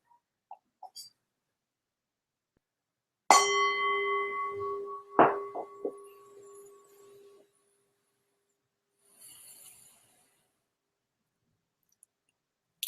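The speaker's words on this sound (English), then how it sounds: "I'm going to ring the bell and we'll get started" A meditation bell struck once, ringing with a bright clear tone that decays over about four seconds in a quiet room, preceded by faint small clicks and followed by a soft rustle.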